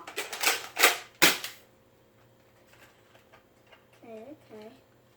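A Nerf toy gun's mechanism is worked by hand, giving a quick burst of loud plastic clacks and snaps followed by faint rattles, and a person speaks briefly afterward.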